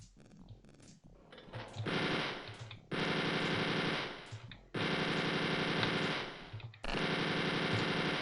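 Enemy gunfire from the Wolfenstein 3D video game comes in loud sustained bursts, several long rattling volleys separated by brief gaps, with no voices.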